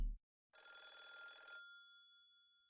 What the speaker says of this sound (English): Pepe stopped kicking her as he heard the phone ring.